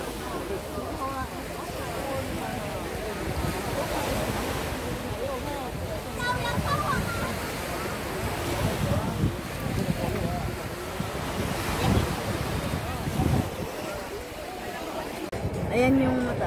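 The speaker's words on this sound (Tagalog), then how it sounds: "So andito tayo sa tabi ng dagat ng Hong Kong." Sea waves wash along the Hong Kong shore on Cheung Chau during the bun festival, a steady broadband rush mixed with wind buffeting the microphone and a busy crowd nearby, with people talking over it throughout.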